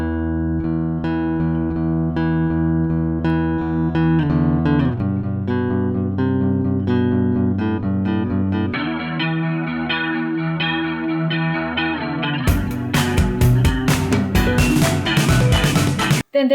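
Recorded electric guitar part from a song, heavily processed with chorus, echo and distortion effects: sustained chiming chords at first, shifting to a dense, bright, crashing full-band texture near the end, loud and with no speech.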